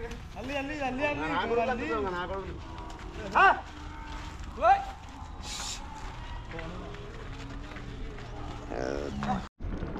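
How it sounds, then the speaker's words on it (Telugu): Cattle low and moo several times amid a busy outdoor livestock market crowd, with people talking in the background and occasional short animal calls. "ఇవన్నీ ఆవులే చూడండి, ఇవన్నీ అమ్మకానికి వచ్చినాయి."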